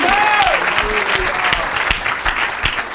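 A church congregation claps and cheers for Jesus during a French-English service, dense sustained applause filling the whole stretch, with a voice briefly rising over the clapping near the start.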